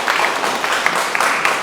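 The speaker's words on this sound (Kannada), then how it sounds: "ಒಂದು ಜೋರಾದ ಚಪ್ಪಾಳೆ." An audience at a vehicle handover ceremony in Dharmasthala breaks into loud, dense applause, many hands clapping in a continuous crackle with no pause.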